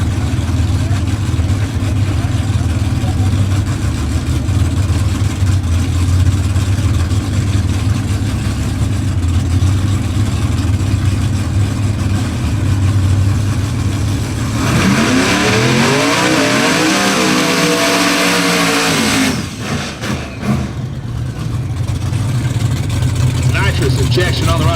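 A Fox Body Mustang drag car rumbles loudly in the pits at a drag racing event, a heavy continuous engine drone that sweeps upward in pitch partway through, with a commentator talking over it.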